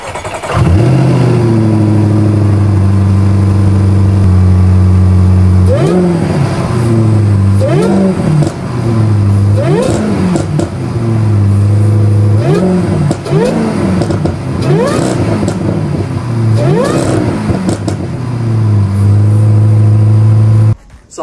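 A Jaguar XF-RS supercharged V8 revs repeatedly, loud and close, each throttle blip rising and falling over a steady idle, with a high whine riding on the engine note and no talk over it.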